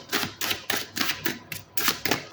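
Playing cards being shuffled by hand, a series of quick crisp riffling bursts in an uneven rhythm, close and moderately quiet.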